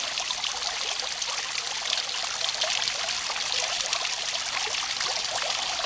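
Steady trickling splash of water dropping into a pool, a continuous bright wash of droplets close by with no voices.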